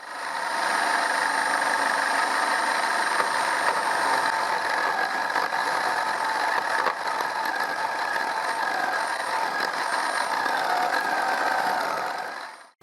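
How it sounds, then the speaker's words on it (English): A chisel held against the edge of a homemade disc sander disc spinning on a clamped base, giving a steady, continuous grinding scrape with a motor hum that runs unbroken at near range and cuts off at the end. "I will use a chisel to rectify the disc. First, I rectify the edge of the disc."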